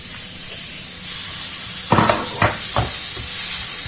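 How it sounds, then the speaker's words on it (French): Onions sizzling in butter with a little oil in a pan, a steady hiss punctuated by a few brief stirring clatters, close and fairly loud with no voices. "mes oignons, mes oignons rissoler"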